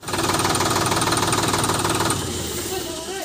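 A tractor engine runs loud and close at a village threshing floor, a dense steady throb with knocking pulses for about two seconds, then dropping to a lower, quieter rumble.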